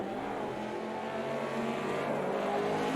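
Race car engines in the GTL racing video game at Spielberg, including a Porsche, roar as a continuous high-pitched drone that rises slightly with revving, loud and steady throughout.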